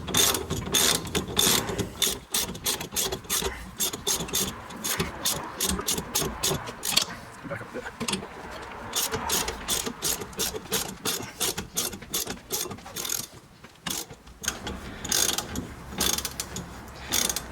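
A ratchet wrench snugs bolts on the rear upper control arm of a 2006 Honda Civic, giving rapid repeated clicking bursts with short pauses, loud and close, no talking.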